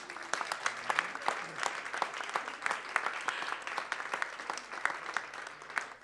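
A crowd applauds steadily, many hands clapping in a dense, continuous patter at moderate distance for several seconds.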